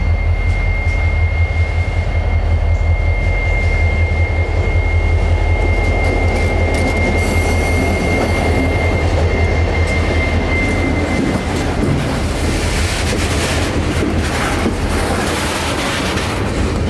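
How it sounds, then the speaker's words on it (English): Train Y191, headed back to Yeoman Yard, rumbles past close by with a deep, loud, continuous roar, a steady whine above it, and rattling wheel clatter that builds toward the end. "up came from the south Y191, a train that is coming back to Yeoman Yard after servicing a customer near Rockport Yard"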